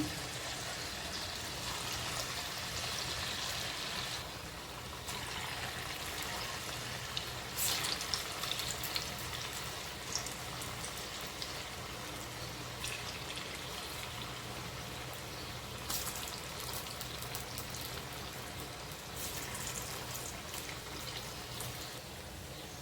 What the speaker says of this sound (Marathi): तेल आपलं तापलं आहे चांगलं त्यात भजी टाकूया आपण